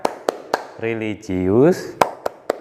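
Classroom of children performing the rhythmic PPK clapping chant, sharp crisp claps in a steady pattern interleaved with sung chant syllables from a group of voices.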